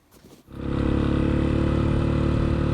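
A Honda XLR125R fitted with a Keihin PZ30B accelerator-pump carburettor starts up on a test ride, the engine catching after a brief rumble and then holding a loud, steady, throbbing drone close to the microphone.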